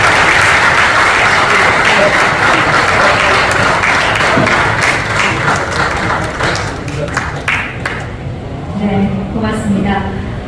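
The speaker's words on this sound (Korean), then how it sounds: "따뜻한 박수 보내주시기 바랍니다." Audience at a horse trainers' retirement ceremony held by the trainers' association claps warmly, loud and steady at first, then thinning toward the end as a voice and a few scattered claps remain.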